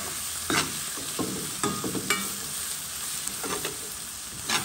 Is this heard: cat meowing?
no